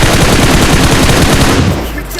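Automatic gunfire from the video game PUBG blasts in a loud, dense, continuous burst that eases off near the end.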